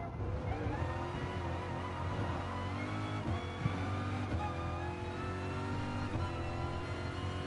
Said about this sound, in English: do you just hear how I just go through them fucking gears in this car?